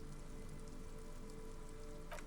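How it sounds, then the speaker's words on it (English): Rain falls on a city in the video game Disco Elysium, a steady dense patter that runs evenly throughout, with water dripping from eaves and flooding the gutters. "Rain drips from the eaves and floods the gutters"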